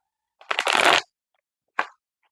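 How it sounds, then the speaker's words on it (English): An oracle deck of cards is shuffled by hand in one quick, crisp riffle of about half a second, followed by a single short card snap, close up in a quiet room. "I'm going to do one more shuffle."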